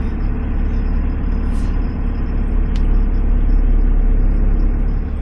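Off-road vehicle driving along a sandy desert piste past dunes near Erg Chegaga in the Moroccan Sahara at sunrise; a steady, loud engine rumble and road noise continue throughout with no break.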